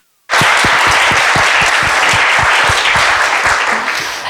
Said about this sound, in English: So can we just all applaud all of them?